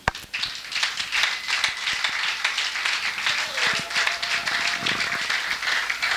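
Church congregation in Oyem applauding, a sustained bright patter of many hands clapping at steady loudness, with a preacher's voice speaking over it.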